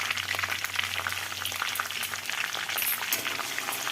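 Cardamom pods, cinnamon and bay leaf tempering in hot oil in a village kitchen, a steady close crackling sizzle with brief stirring scrapes throughout.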